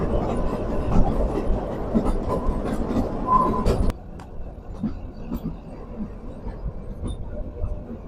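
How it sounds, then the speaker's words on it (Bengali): Kalka-Shimla toy train rumbles along the tracks on its way toward Shimla, a steady close rolling clatter that drops to a quieter drone midway, with voices faintly in the background. "এই 6 নম্বর প্ল্যাটফর্ম থেকে আমাদের টয় ট্রেন সিমলার উদ্দেশ্যে রওনা হবে।"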